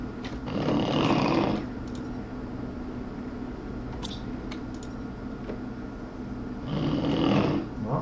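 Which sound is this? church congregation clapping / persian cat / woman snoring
woman snoring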